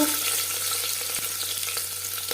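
Chopped onion and tomato fry in four spoons of hot refined oil, a steady close hiss with faint crackle that runs unbroken and alone for the whole stretch, no voices.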